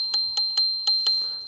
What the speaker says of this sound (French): à doigt qui se trouve ici pour quand arrive quelqu'un ou pour prévenir de ton arrivée